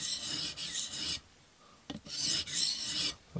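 A knife blade strokes back and forth on a TSPROF Blitz Pro diamond plate, giving several steady raspy scraping passes separated by short pauses, close and clear.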